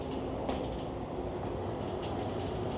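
Interior of a first-class InterCity double-decker train travelling in the Netherlands, steady rumbling wheel-on-rail roar with faint rhythmic clatter, close and continuous with no talk.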